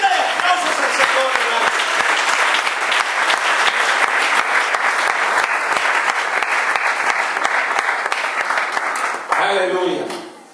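Loud, sustained clapping from a church congregation at a worship service fills the whole stretch at an even level, with some crowd voices mixed in, then tapers off abruptly near the end.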